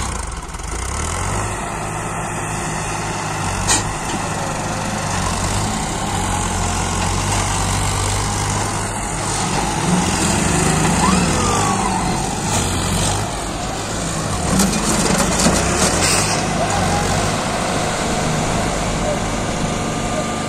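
Two tractors, a Powertrac Euro 50 Plus and a John Deere 5210, rumble with steady diesel engine noise throughout, loud and close, with voices talking over them.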